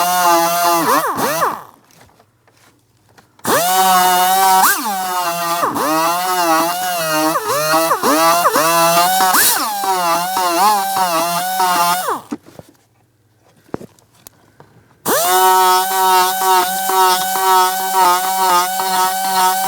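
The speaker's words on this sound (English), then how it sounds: "to remove each one of these two plastic rivets, I'm going to be using a die grinder" A die grinder cuts the heads off plastic rivets holding the blower motor control module on a 2004-2008 Pontiac Grand Prix, emitting loud, close, high-pitched whines that rise and dip under load in three long runs separated by quiet gaps.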